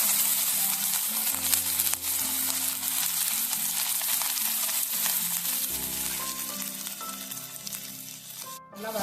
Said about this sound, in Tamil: நெய்யில் வறுத்து எடுத்துக்கலாம்.